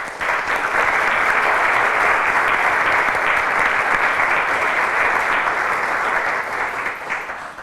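A sustained, dense wave of audience applause welcomes panelists at a discussion event, loud and steady for about seven seconds before tapering slightly at the end.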